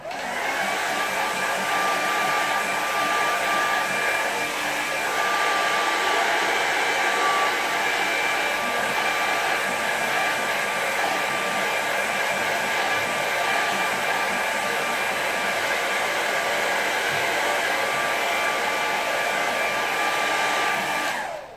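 A hair dryer quick-drying a watercolour landscape painting: a loud, steady whirring blast runs for about twenty seconds without a break, then cuts off at the end, with no talking.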